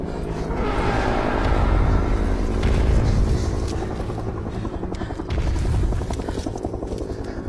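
A helicopter's rotor thumps and engine drone fill a film scene with gunfire nearby, loud and steady, swelling and easing as it passes.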